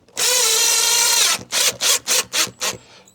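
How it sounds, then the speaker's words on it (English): A power drill drives a screw through a PVC exterior line cover for a mini split unit, with one long steady whir followed by five short bursts as the screw seats, close up with no talking. "so I'll just screw that in right here"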